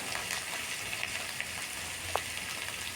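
Chopped tomatoes sizzle in frying onion and garlic for a Kerala-style fish dish, a soft, steady crackling hiss with scattered small pops, heard alone.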